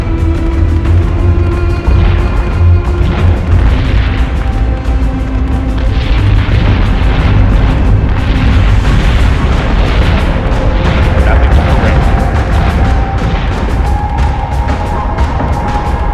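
Flak cannon fire and explosions in a Battlestar Galactica: Deadlock space battle, a dense, loud, continuous barrage of booming bursts that rumbles low and keeps going without a break for the whole stretch.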